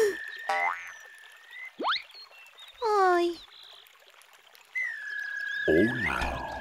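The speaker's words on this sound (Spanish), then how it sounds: "Deseo que Media Luna y Shunwen se conviertan en sapos" Cartoon frogs croak in an animated children's show, a series of bouncy, boinging croaks and squeaky calls with watery trickles, close and clear, interleaved with bits of vocal sound.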